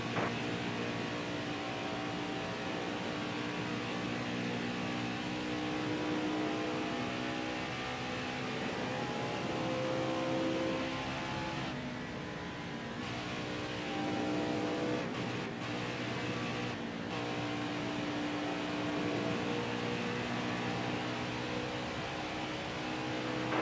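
NASCAR stock cars roar around the track in a dense, continuous engine drone with layered revving tones and a few brief dips, heard steadily throughout without voices.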